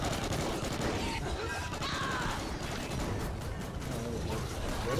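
An FP6 shotgun fires in the co-op shooter Extinction: Point of Contact, loud blasts and mechanical clatter in a dense, continuous barrage of gunfire, with players talking underneath.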